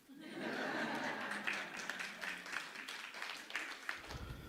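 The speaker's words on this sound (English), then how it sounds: "it's okay, you can clap" Audience at a keynote address during a membership launch breaks into fairly faint, steady clapping that runs several seconds and thins out toward the end, with a hint of chuckling mixed in.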